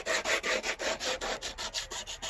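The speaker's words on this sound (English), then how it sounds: "with the hand sander." A hand sander scrubs rust off a car body in quick, even back-and-forth strokes, a rough rasping sound about five strokes per second, close up with no voices.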